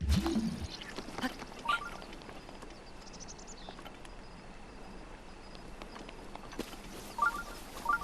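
Horse hooves in the video game Breath of the Wild, scattered clip-clop steps with faint bird calls and soft ambient game sound, fairly quiet and no talking.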